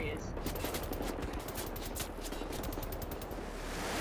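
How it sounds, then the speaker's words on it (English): Enemy gunfire in the shooter Wolfenstein: The New Order, with rapid automatic bursts rattling steadily under a game mix at moderate loudness. "Stop firing at me!"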